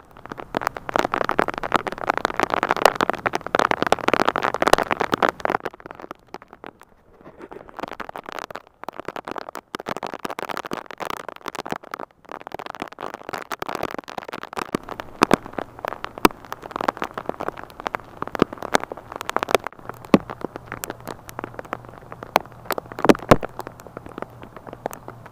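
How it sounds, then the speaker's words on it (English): Rain patters steadily on nearby surfaces, a dense crackling hiss with scattered louder drops, continuing throughout. "So I had to record some video out in the rain."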